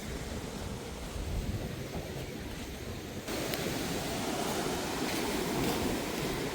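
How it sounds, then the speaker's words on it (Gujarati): Sea waves surging at high tide near a lighthouse on the Dandi shore, a constant broadband wash of surf with wind, growing slightly louder partway through. "ફૂલ ભરતી છે ને મોજા ઉછરે છે."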